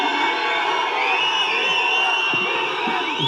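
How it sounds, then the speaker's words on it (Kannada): An audience cheers and whistles at a stage event. A dense, steady wash of crowd noise carries thin, high whistles rising and gliding through it, moderately loud and continuous. "ಬರೀ ವಿಸಿಲ್ ಬರಲಿ ನೋಡ"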